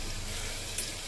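Spices such as coriander-cumin powder and turmeric sizzling in hot oil for a tempering, a steady close hiss and crackle with a brief sharper spatter near the end.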